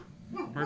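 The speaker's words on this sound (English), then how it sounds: "That's my dog." A dog whimpers close by indoors, a short rising whine that swells toward the end over a low background.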